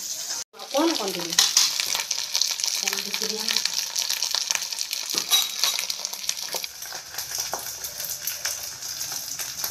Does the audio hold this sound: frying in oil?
yes